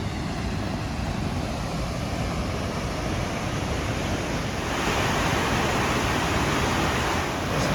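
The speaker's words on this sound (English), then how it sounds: "This water is rushing." Water rushing at Silver Falls on a snowy hike through mossy rocks in Mount Rainier National Park: a steady, broad roar with no breaks, growing noticeably louder partway through.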